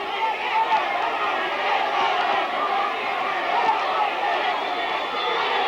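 A boxing arena crowd cheering under a blazing sun in the Nevada desert during a WBC welterweight title bout, a dense continuous roar of many voices, loud and sustained with a commentator's voice partly over it.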